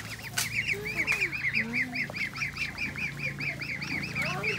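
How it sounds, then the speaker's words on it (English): A flock of ducks quacks repeatedly in a fast, steady chorus nearby on a homestead in Adjumani, northern Uganda, with a few louder calls standing out. "The ducks are out and about"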